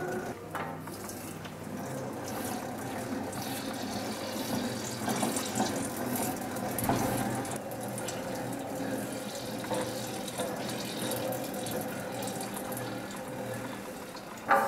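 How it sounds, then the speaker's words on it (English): Gear oil sloshes and splashes inside the gearbox of a running metal shaper, a continuous liquid churning mixed with mechanical whir, steady and moderately loud for the whole stretch, with no talking. "you can actually hear the oil sloshing around"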